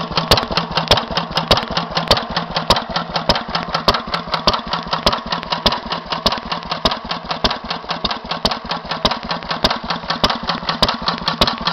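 A 1942 Lister B type 5hp stationary engine with a big hopper, tank and original exhaust runs steadily, its rapid, even thumping beat continuing loud and close throughout with no talk.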